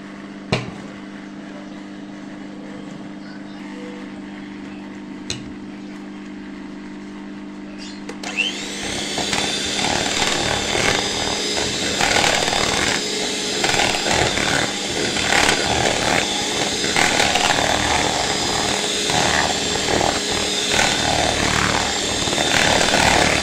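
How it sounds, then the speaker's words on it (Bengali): An electric blender whips cream for cake decoration, starting after a quieter stretch of low hum and then running as a loud, steady high whine with slight wavering for the rest of the time, no voices. "এখানে আমি হুইপ ক্রিম নিয়ে নিয়েছি, এটাকে আবার ব্লেন্ড করব"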